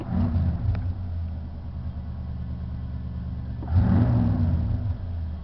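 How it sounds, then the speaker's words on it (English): A 1965 Ford Galaxie's 289 Windsor 4.7-litre V8 idles with a deep exhaust rumble, then revs up sharply once and settles back to a throaty idle. "let's kick her down and let's hear the exhaust sound."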